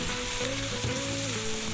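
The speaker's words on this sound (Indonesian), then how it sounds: "Tambahkan sedikit tepung, baru setelah itu kita masukkan belut dan kita goreng seperti langkah di awal tadi ya." Flour-coated eel pieces frying in hot oil for eel balado, a loud, continuous crackling sizzle close by, with a low tonal hum running underneath and no talking.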